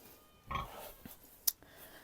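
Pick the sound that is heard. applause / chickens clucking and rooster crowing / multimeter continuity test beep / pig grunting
pig grunting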